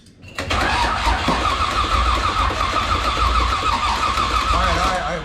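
A 1966 Corvette with a 327 L79 engine, a barn find running on stale fuel, cranks and fires into a loud, steady rumbling idle that holds close and strong throughout.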